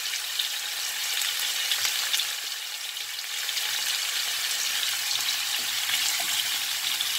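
Pork chunks and garlic fry steadily in hot fat for a Cuban-style dish, a dense, even crackling sizzle that holds at close range throughout without pause or voices.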